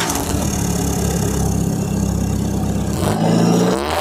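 The engine of an Isuzu D-Max 2.5 pickup running close by, a steady loud rumble that rises slightly near the end, with no voices.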